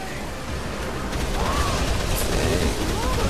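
AK rifle fire in the video game Dead Island Riptide, a dense continuous rumble of shots and booms under a loud, steady wash of game noise with no clear gaps.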